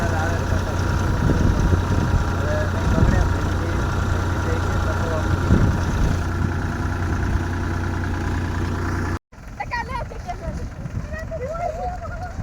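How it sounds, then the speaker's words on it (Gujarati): A farm tractor idles and runs on a field during fodder-gathering work, a steady low engine drone close by, with someone talking over it before a brief cut and a quieter stretch. "જો આ છોકરા ટ્રેક્ટર હાકે છે."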